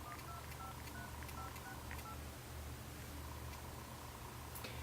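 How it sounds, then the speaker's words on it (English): Dial pad tones from a Motorola Krave phone's on-screen virtual keypad, a steady series of short beeps over a faint background hiss, with no talking. "The Krave uses a standard on-screen virtual dial pad."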